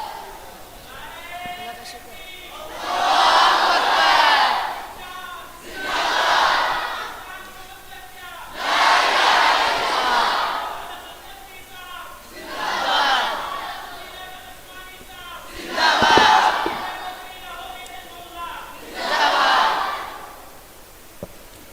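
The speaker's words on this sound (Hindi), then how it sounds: "इनके लिए तालियां।" A crowd at a student quiz competition final cheers for the winners in about six loud, rhythmic bursts of collective voiced shouting, each separated by short pauses.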